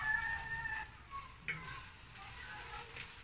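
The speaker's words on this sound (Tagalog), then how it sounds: "ginigisa natin." Ingredients sautéing in a pan for instant noodles with liver, giving a quiet, steady sizzle and light stirring scrapes, close but faint, with no talking.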